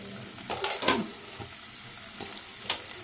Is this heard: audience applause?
no